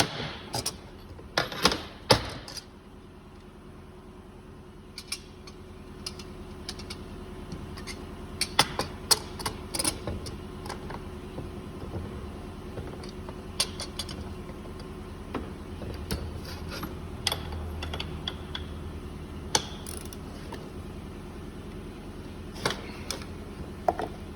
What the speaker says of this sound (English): big pair of channel locks on the yoke. And torque wrench, snug her up.